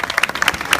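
Crowd applause at a May Day workers' rally in Tarragona, a brief burst of dense clapping from many people, fairly loud and steady throughout.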